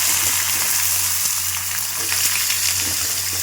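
Vegetables hit hot oil with ginger in a pan, sending up a loud, continuous close-up sizzle that holds steady throughout.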